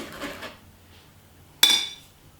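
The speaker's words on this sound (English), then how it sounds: "we're going to sieve the icing sugar" Icing sugar is sieved for a chocolate cake icing. There is a soft rustle of the sieve, then one sharp metallic clank of the sieve against a bowl, followed by quiet.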